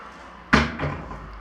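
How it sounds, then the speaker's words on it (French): A door in a family home is closed gently. A soft, muffled thud sounds at the latch, followed a moment later by a lighter knock and a brief settling rattle, with no voices. "Oh, je fais doucement avec la porte."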